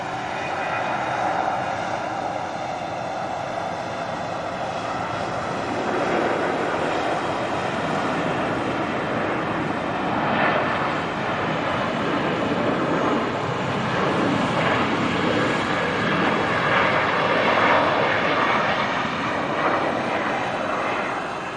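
Aircraft engines roar at Manchester Airport, a loud, steady jet rumble and whine that swells slightly as the plane passes, continuous throughout with no voices.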